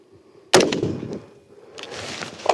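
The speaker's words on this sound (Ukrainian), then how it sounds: "Постріл." A single sharp shot from a ZR-10 rifle firing a live combat round cracks loudly at close range, followed by a brief decaying echo and then low background rustle.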